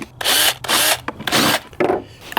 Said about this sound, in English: I have my handy dandy impact drill.